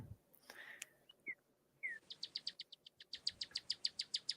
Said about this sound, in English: Man, them birds are nice.